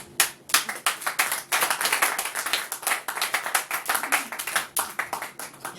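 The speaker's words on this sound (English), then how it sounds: "You deserve a round of applause from me." A few people clap in a quick, uneven round at a spoken poetry performance, the sharp hand claps close and steady for several seconds with no talking over them.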